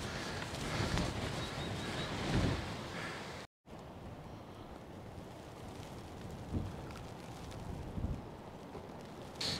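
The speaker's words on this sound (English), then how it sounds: "Oh, geez, this wind." Strong wind at the shore at Sand Point roars and buffets the microphone in a steady, loud rush, broken once by a brief dropout.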